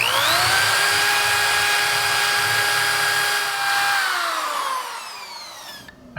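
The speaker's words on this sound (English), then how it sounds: "So I'm just using a die grinder bit on the drill. Makes easy work of this aluminum." A drill with a die grinder bit whines at high speed while enlarging bolt holes in aluminum, holding a steady tone before slowing down and ending with a brief clatter.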